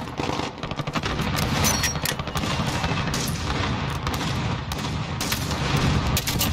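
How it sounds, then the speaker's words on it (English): Desert Eagle pistol shots ring out amid a busy firefight in the video game Modern Warfare, with repeated loud cracks and booms of gunfire overlapping almost continuously. "I just long shot at a kid with a deagle."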